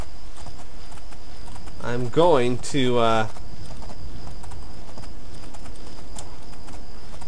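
Horse hooves clip-clop at a steady walking rhythm in the video game Oblivion, continuing under a brief spoken phrase.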